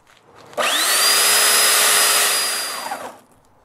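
A power saw cuts the corners off a wooden bowl blank of urban lumber in one steady, loud, whining cut of about two and a half seconds that fades as the cut ends.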